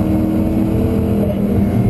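A Noble M600 accelerates hard at the Nurburgring, a loud, steady engine roar close by, heard alone and sustained without a break.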